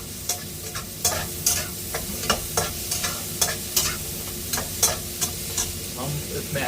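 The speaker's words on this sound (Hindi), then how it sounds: "टमाटर डालते हैं।" Tomatoes stir-fried in a hot pan for fried rice, with a steady sizzle and a spatula scraping and knocking in a regular rhythm, close and moderately loud.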